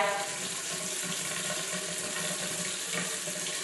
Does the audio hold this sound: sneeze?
no